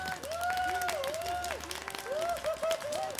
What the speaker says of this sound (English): There's cheering for those moments if you ever want it.